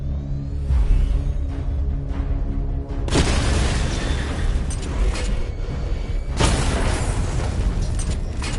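Explosions blasting targets in the Batman: Arkham Knight video game, loud, dense booms with two big blasts about three seconds apart over a constant roar of game sound.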